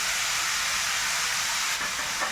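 Cabbage goes into a hot pan for a Bengali wedding-style mixed vegetable dish, giving off a loud, continuous hiss of steam and sizzle that fills the whole moment, with no voices.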